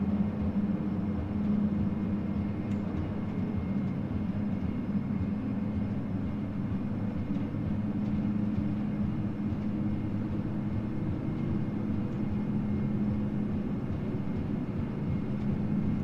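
Twin turboprop engines of a Q400 run at takeoff power in a flight simulator game, a loud, steady droning roar with a low hum that stays even throughout, with no speech.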